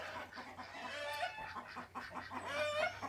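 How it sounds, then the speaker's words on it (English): Hens on a farm cluck continuously in their pen alongside ducks and a turkey, several overlapping birds at moderate distance with a faint low hum underneath and no talking. "In with our hens are also some of our ducks"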